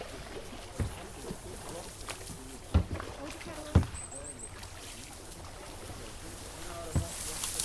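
A small boat paddled along on water: soft intermittent paddle strokes and splashes every second or so over gentle water noise, with people talking quietly nearby.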